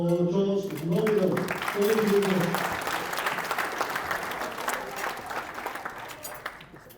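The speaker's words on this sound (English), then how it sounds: "another round of applause for Josh Norbido." Audience at an engineers' conference applauds a magician, broad sustained clapping that swells, then slowly fades away, with a voice speaking over the start.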